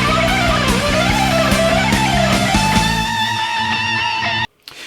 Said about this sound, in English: Next phrase is the fast picking phrase,